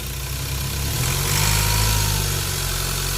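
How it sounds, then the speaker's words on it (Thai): A Ford Ranger with a newly fitted turbo runs up from idle, its steady engine drone swelling briefly and easing back down, loud and close with no voices. "เอาลองเล่นเครื่องหน่อย"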